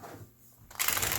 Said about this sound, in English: this deck does shuffle beautifully,